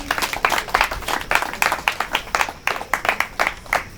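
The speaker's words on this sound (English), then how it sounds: "So can we clap for him?" An audience at an accessibility event for people with disabilities in Jos claps in a steady, rhythmic unison beat, loud and sustained throughout with no talking.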